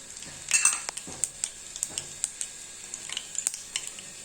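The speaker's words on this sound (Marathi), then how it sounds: "बघा मोहरी फुटायला लागली। आता आपण त्यात जिरं घालू।" Mustard seeds crackling and popping in hot oil, with cumin added, for a tomato chutney: a steady high sizzle broken by sharp, repeated pops and spoon clinks close by.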